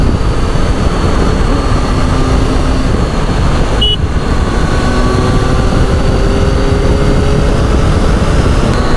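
A Triumph Tiger 800 or Kawasaki Versys 650 motorcycle growls as it accelerates on a weekend ride, its engine pitch climbing steadily beneath heavy, constant wind rush throughout.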